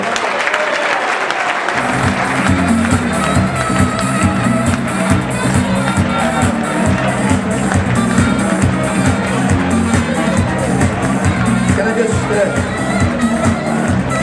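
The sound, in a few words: round of applause for a football player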